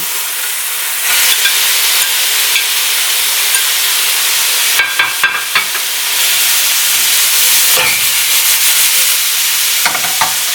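Shrimp sizzling loudly on top of buttered broccoli in a pan, a steady bright frying hiss with a few clinks and stirring scrapes across the clip, no talking.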